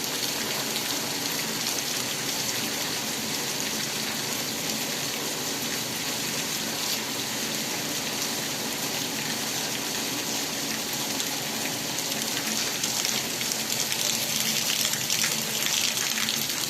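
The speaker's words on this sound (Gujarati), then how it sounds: "ગંગામાં ધોધમાર વરસાદ" Heavy rain pours down steadily, a dense, constant hiss and patter that stays loud and unbroken throughout, a downpour in Gadhada.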